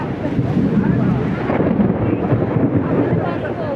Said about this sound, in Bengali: অনেক বজ্রপাত হচ্ছে।